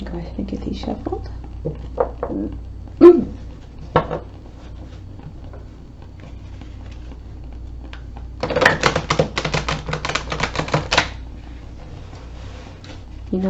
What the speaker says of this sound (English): Go ahead and get these shuffled.